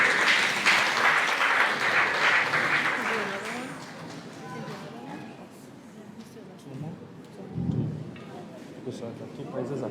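Loud applause from a crowd at a pageant introduction night, dense clapping and cheering at the start that gradually thins and fades, with voices and scattered sounds continuing underneath.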